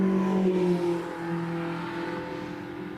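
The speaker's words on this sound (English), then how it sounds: "Nice little MX-5, quite an early one." An early Mazda MX-5 races up the Shelsley Walsh hill climb, its mid-pitched engine rising and falling as it revs through the gears, fairly distant and alone without commentary.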